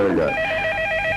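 A landline telephone rings in a home scene from a classic PTV drama, a steady electronic trill repeating through the clip after a brief burst of voice at the start.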